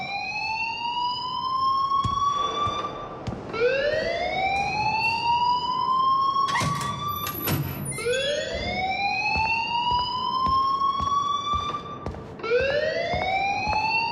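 A school alarm in Life is Strange rings in repeated rising electronic whoops, each sweep climbing in pitch before cutting off, loud and steady with brief clicks between cycles.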